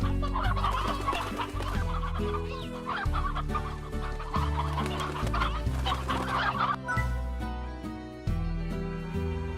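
Chickens clucking in the Slime Rancher video game, a steady run of farmyard clucks and squawks that continues for several seconds over layered background game music.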